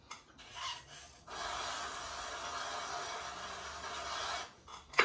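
A tool trimming the base of a clay mug on a spinning pottery wheel gives a steady, close scraping rasp for several seconds, with short bursts of scraping before and after.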